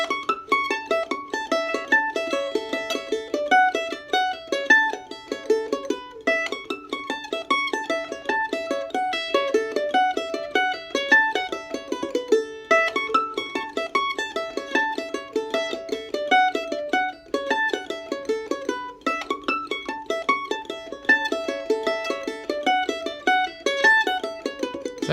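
Solo mandolin playing the first part of a tune high up the neck, with quick, bright picked notes in a steady rhythm that continue for about twenty-five seconds.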